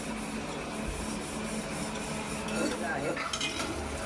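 Onions fry in a pan for Maharashtrian poha, a continuous close sizzle with occasional spoon scrapes and light clinks against the pan.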